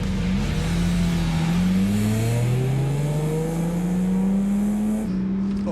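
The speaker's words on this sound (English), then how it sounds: "he's going to test drive the hottest supercharged Lotus on the market" A supercharged Lotus sports car accelerates hard on a test drive, its engine note climbing steadily through the gears with loud, continuous revving from inside or close by, easing briefly before pulling again.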